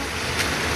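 Rushing water from Curug Dengdeng waterfall in South Cianjur, a loud, dense, continuous roar filling the whole moment with no pauses.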